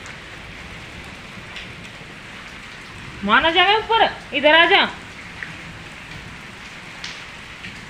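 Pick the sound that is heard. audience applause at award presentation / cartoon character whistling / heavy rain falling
heavy rain falling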